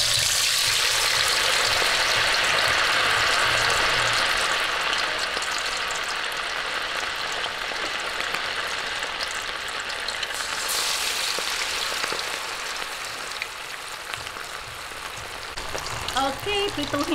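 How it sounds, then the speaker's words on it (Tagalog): Pork belly liempo fries in hot oil until crispy, giving a steady dense sizzle and crackle that softens slightly over time, with small bursts of spattering near the end. "umpisahan na po natin ang pagpapakrispy ng ating liempo pinatisan"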